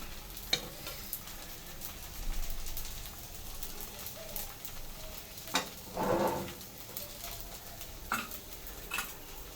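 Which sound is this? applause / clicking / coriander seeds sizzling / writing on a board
coriander seeds sizzling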